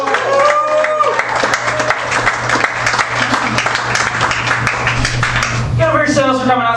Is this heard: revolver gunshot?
no